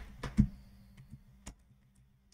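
A few scattered keystrokes on a computer keyboard while entering an Excel formula, close and quiet, with short clicks and gaps between them.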